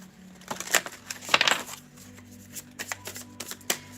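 Tarot cards are shuffled and drawn by hand, giving close papery riffles and flicks with a few sharper slaps.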